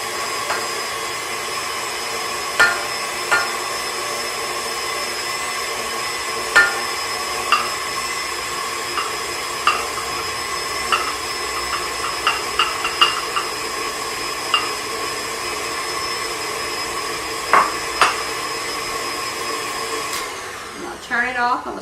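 Electric mixer beating powdered sugar into cinnamon roll frosting, a steady whirring drone with repeated clinks and taps of the beaters against the bowl, ending as the motor stops.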